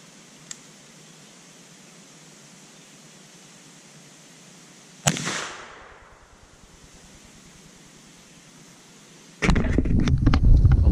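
A single sharp gunshot from a Traditions .36 caliber Shenandoah percussion rifle cracks outdoors and decays quickly, followed seconds later by loud rustling and handling noise nearby.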